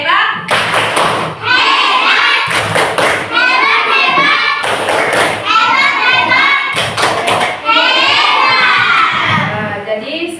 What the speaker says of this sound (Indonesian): Tepuk hebat untuk Patut.